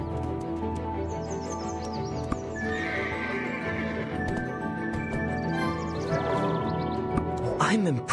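Horse in the video game Black Desert Mobile neighing and whinnying loudly over busy game music and ambient sound, with clip-clop hoofbeats and faint bird chirps mixed in.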